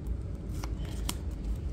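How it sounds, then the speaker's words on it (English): A tarot card deck is shuffled by hand, a soft continuous papery riffle with a couple of crisp snaps, quiet and close. "I will go ahead and shuffle the deck and see what we get on the split for your reading"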